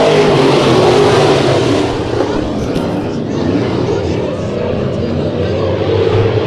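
Dirt track race cars roar past during a heat race at KCRP, a dense, loud wash of engine noise with crowd or announcer-level voices blending in throughout.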